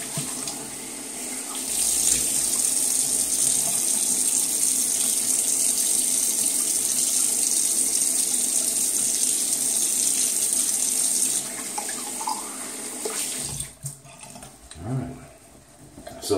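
Cold water pouring steadily from a bathroom tap into a sink, loud and close for around ten seconds before it shuts off, followed by quieter handling sounds near the basin.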